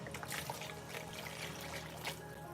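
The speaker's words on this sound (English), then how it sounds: "Maybe I'll soak it with some water." Water pours into a pot to soak it, a steady close trickle and splash that runs throughout, with no talking.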